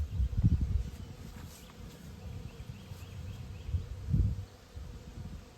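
A low, steady buzzing of many black bees close by on the comb, swelling and fading slightly, with no voices.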